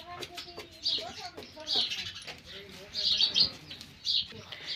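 Bright bursts of sparrow chirping come in short clusters over a quiet village background, with a voice speaking and a soft coo in between.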